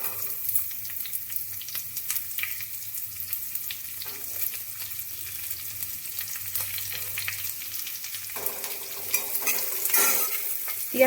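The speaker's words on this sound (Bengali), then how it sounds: "পেঁয়াজ কুচিটা দিয়েও বেশ কিছুক্ষণ লাল লাল করে ভেজে নেব।" Chopped onion fries in a pan with a continuous soft sizzle and occasional spatula stirs, growing busier and louder toward the end, with no talking.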